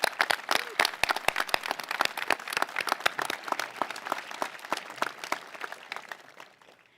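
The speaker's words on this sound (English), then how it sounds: "Can we please give another round of applause for our amazing student speakers?" Scattered, distinct hand claps from a high school commencement audience, a handful of nearby people clapping unevenly for student speakers before the applause thins out and fades.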